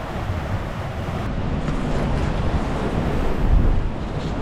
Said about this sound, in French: petit à petit le vent monte